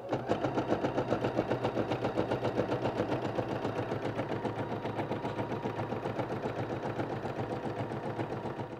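A computerized embroidery machine stitches a placement guide through cutaway stabilizer in a hoop for a dress, its needle hammering in a fast, steady mechanical rhythm that runs close and unbroken.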